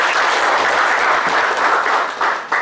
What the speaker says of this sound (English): A big round of applause to Mahadev.